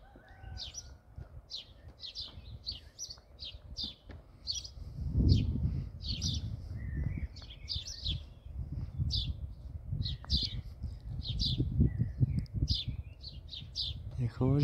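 Small birds singing on a ledge above a window give quick, bright chirps in repeated bursts from start to finish, over a steady low background rumble.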